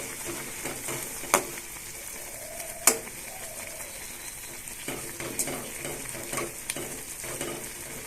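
Maggi noodles tossed with masala in a hot pan, a steady low sizzle under a few sharp scrapes and clacks of the spoon against the metal, with no talking.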